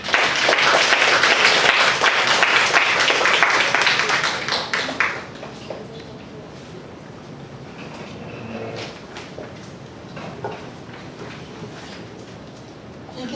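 An audience applauds to welcome Professor Agnes Lam at a talk, loud sustained clapping for about five seconds that then fades to scattered claps and quiet room noise with soft movement.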